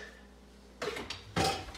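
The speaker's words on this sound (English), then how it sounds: "my faithful assistant is gonna hand me a tablespoon" A metal tablespoon taken from a kitchen utensil drawer: two quiet clinks and rattles of cutlery close by, the second louder, with no talk.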